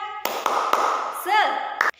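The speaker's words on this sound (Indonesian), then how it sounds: "ayo kita tepuk semangat dulu ya" Schoolchildren in a sixth-grade class clap a rhythmic spirit clap, a few sharp group claps landing in a pattern with chanting voices in between, close and fairly loud.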